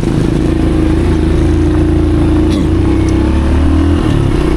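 Motorcycle engine idling steadily close by, a continuous low rumble with mechanical clatter and slight revving throughout, no voices.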